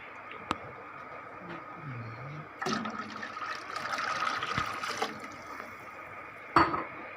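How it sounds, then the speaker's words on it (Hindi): Water from a jug pours into a pot of kadhi, a yogurt-based curry, producing a few seconds of steady splashing and trickling with a sharper splash near the end; a voice is heard briefly at the start. "अब हम इसमें पानी डालने जा रहे हैं 3 जग, ठीक है।"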